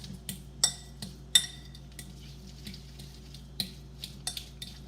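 A spoon scrapes and clinks against a bowl while egg salad is mixed, giving a few sharp, close taps scattered over soft stirring, with no voices.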